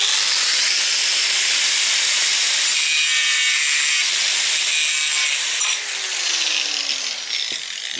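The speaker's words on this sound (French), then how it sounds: "je vais découper une petite plaquette en acier que je vais mettre derrière" A small steel plate being cut for a Citroën Traction 11B seat belt fitting, a loud steady high-pitched grinding hiss that runs throughout and eases slightly near the end.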